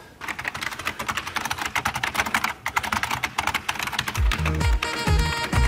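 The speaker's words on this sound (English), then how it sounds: "That is a buckling springs equipped Unicomp keyboard based on a Model M IBM keyboard. It is very loud, very obnoxious, and it sounds like this." Typing on a Unicomp buckling spring keyboard modeled on the IBM Model M, with dense, loud, clacky keystrokes in a fast, continuous burst close up, and a louder rhythmic thumping noise joining near the end.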